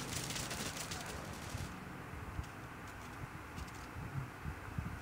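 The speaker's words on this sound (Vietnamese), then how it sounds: "Con súng máy bắn đi" Machine gun fire in the mobile shooter game Call of Duty: Mobile, a dense, continuous rattle of rapid shots under steady noise throughout.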